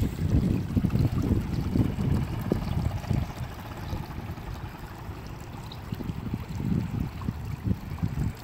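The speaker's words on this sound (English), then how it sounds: "where the water is just cascading over these beautiful rocks" A small stream cascades over rocks in a steady, close rush of water, rumbling and uneven, heard alone with no voices.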